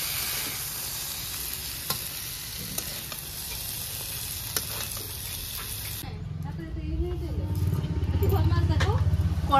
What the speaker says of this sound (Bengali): শুকনো কড়ায় ডালটা নেড়ে নিচ্ছি